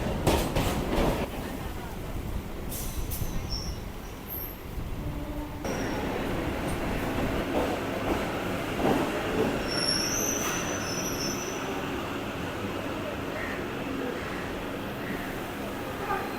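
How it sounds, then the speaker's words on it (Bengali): Kolkata local train pulling into platform one at Kolkata station, with steady rolling rumble, wheel clatter and high squealing brakes, close and loud, with a voice talking over it. "ঢুকে গেল কলকাতা স্টেশনে কলকাতা স্টেশনের এক নম্বর প্ল্যাটফর্মে দিয়েছে"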